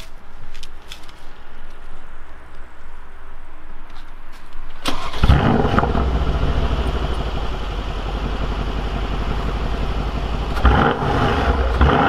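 A Mercedes C63 AMG engine cranks and fires at about five seconds, then settles into a loud, deep, rumbling idle with a slight rise in revs near the end, after quiet background hum.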